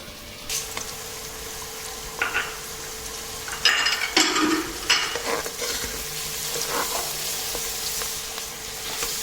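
Chopped onions sizzle and fry in a pan for dal khichdi while a spoon stirs and scrapes them, with a steady hiss broken by several louder clatters and scrapes near the middle, close up and with no talking.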